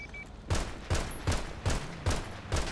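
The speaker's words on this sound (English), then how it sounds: "I have a stolen DCSO cruiser just shooting at me" Repeated gunfire in Grand Theft Auto V, with six evenly spaced bursts of shots aimed at the player from a stolen DCSO police cruiser, loud and close, with no voices over them.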